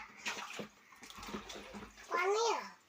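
Water is scooped and poured with a few brief splashes and sloshes while a water tank is cleaned, mixed with nearby voices, including a child's.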